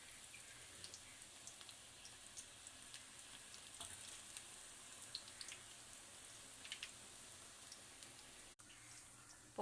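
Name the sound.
onion pakoda frying in hot oil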